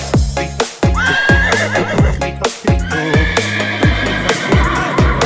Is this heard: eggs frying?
no